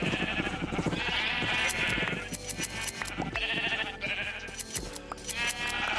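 Sheep in the Minecraft video game bleating repeatedly while being sheared, loud overlapping bleats in bursts over busy game sounds with clicking and tinkling effects, no talking.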